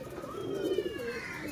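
A female teddy pigeon gives one soft, close, rolling coo, a low throaty murmur that swells and fades over a second or so.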